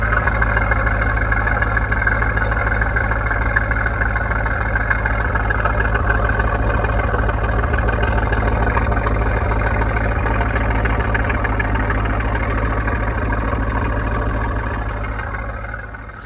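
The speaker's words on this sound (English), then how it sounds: "let's have a listen to the idle" A sports car engine idles steadily through its exhaust, heard close with a constant low, even rumble that fades slightly at the end.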